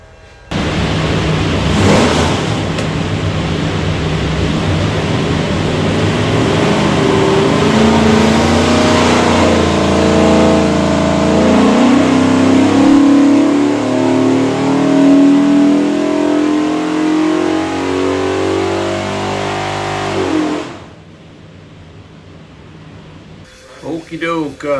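A 427 cubic inch small block Ford V8 roars under full load on a dyno for about twenty seconds, its pitch climbing steadily through the run before cutting off abruptly, with faint sounds in the quiet that follows.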